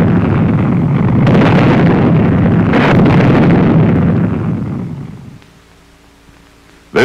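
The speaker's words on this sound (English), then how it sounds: "it spins before firing." A Little John surface-to-surface rocket, an Army free-flight solid-propellant missile for airborne troops, fires with a loud sustained roar and rushing blast that fades away, ending in a low hum and a final thump.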